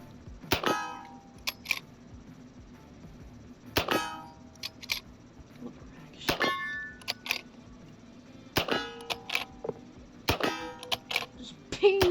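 Winchester Model 1866 lever-action rifle firing at a steel target, sharp metallic shots with ringing pings coming in irregular bursts of several rounds, loud and close.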